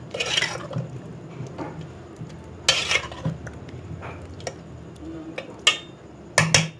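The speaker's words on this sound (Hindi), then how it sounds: "अब इनको भी अच्छी तरह से मिक्स कर लेंगे" Fried bhallas being stirred and mixed together in a bowl for dahi bhalla, with soft scraping and stirring strokes and a few sharper clinks of utensil against the bowl, fairly close and without talk.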